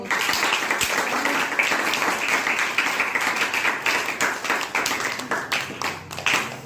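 Loud, sustained applause from a crowd at a retirement ceremony, with dense clapping that stays steady for several seconds.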